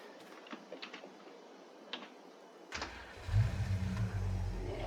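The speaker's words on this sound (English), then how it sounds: "Hear that engine." After a few faint clicks, a pickup truck engine in a survival video game turns over and starts, settling into a low rumbling idle.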